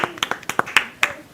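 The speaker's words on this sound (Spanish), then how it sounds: "Un aplauso para Faría, Faría." Audience members at a church service clap for a guest in a brief, loose patter of separate hand claps, close and moderately loud, fading quickly.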